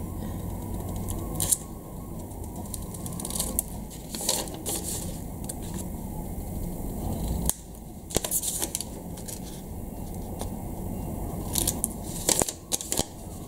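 Scissors cutting sequins and paper for a scrapbook album, heard as a close series of sharp, irregular snips and crisp crackling rustles.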